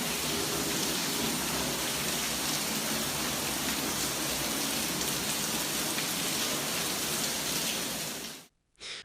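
Heavy rain pours down steadily during flash flooding in New York City, a dense, continuous roar of drops striking surfaces that cuts off abruptly near the end.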